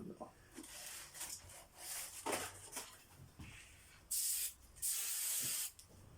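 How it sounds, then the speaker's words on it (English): Hairspray hisses out of a can in two short bursts near the end, one after the other, following softer rustling and handling noises, with people talking quietly nearby. "So that's hairspray."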